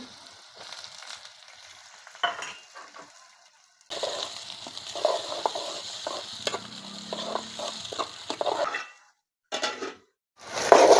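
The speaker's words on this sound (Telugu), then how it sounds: "మనకైతే ఉల్లిగడ్డలు అయితే ఫ్రై అయినాయండి" Sliced onions fry in a hot pan for a homestyle egg curry, giving a steady sizzle with scraping stirs and occasional utensil clinks, briefly dropping out near the end before resuming.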